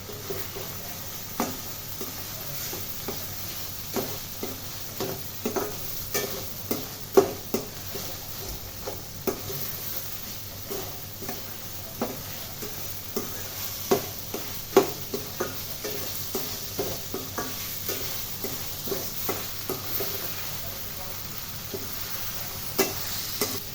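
Boiled chana dal stir-fried with salt and two bay leaves for pumpkin dal: a steady sizzle runs throughout, broken by frequent close spoon scrapes and taps against the pan in an irregular rhythm.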